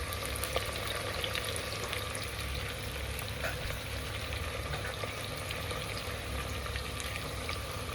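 Whole garam masala spices fry in hot oil in a pot for vegetable pulao, making a steady, faint, continuous sizzle with small pops and no pauses.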